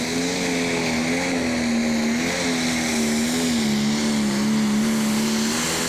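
A prostock pulling tractor at the 2014 Eurocup tractor pulling in Brande, Denmark roars at high revs near 6,000 RPM for launch, a loud sustained engine drone with a steady wavering pitch and no talking.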